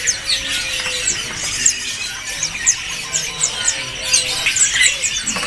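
Small white-eye songbirds (pleci bustomi) at a bird-market stall chirp and squeak in quick, high, overlapping bursts. The calls are close and busy, with no talk over them.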